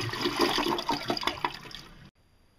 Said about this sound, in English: it was the first film to show a toilet flushing